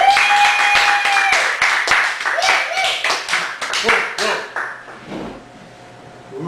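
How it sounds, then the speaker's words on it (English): A small audience at a Chicago poetry show claps for a poet, distinct individual claps with a thin tone at the start, gradually thinning into a few scattered claps and quiet voices. "Everybody give it up for Janet Kuypers"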